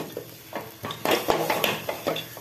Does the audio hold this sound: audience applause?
no